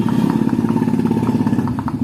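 A 125 cc motorcycle engine with a worn, damaged housing idles with a rapid, steady mechanical knocking, a regular clattering tick over the low engine hum, close and without talk.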